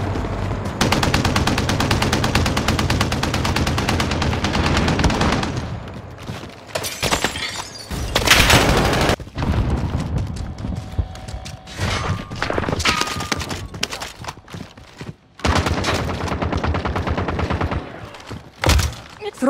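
Gunfire in Call of Duty Warzone's Payload mode plays on Xbox Series X. It comes as loud, sustained machine-gun bursts, then broken volleys, sharp single shots, thuds and shattering impacts with brief lulls between.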